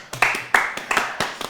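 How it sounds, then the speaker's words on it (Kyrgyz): Scattered hand claps from a small studio audience on a comedy game show, several sharp separate claps in an uneven rhythm over about a second and a half, fairly close and with no talking over them. "кол чабуулар."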